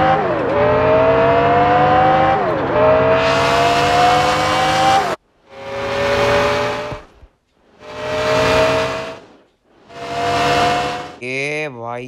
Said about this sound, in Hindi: एंड इस गाड़ी का आपको लाउड सुना देते हैं भाई।